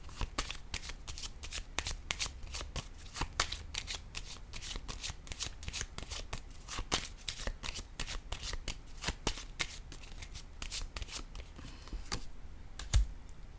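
Tarot cards are shuffled and laid out in rapid, dense riffling clicks and snaps, close and fairly quiet, continuing steadily throughout.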